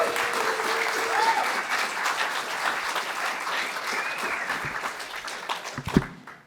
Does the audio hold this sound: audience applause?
yes